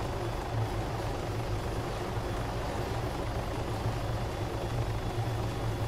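A helicopter in the video game Arma Altis Life, a steady low rotor thrum and engine drone that stays constant and fairly close throughout, with no talking.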